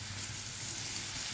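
Spices for a tadka sizzle steadily in hot oil in a home kitchen, a soft continuous crackling hiss with no pauses.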